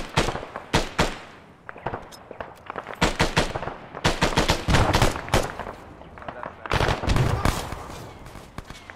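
Gunfire and blasts from an Arma 3 firefight, including a frag grenade going off: dense bursts of sharp automatic shots and booms, loud and close, with a deeper thud around the middle, and voices in the mix.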